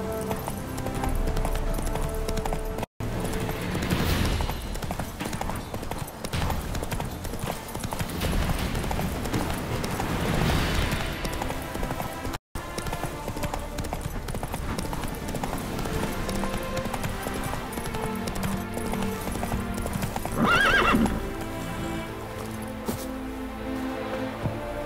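Roach the horse galloping in The Witcher 3 video game, a continuous fast clip-clop of hooves with a brief neigh near the end, set against game music and ambience.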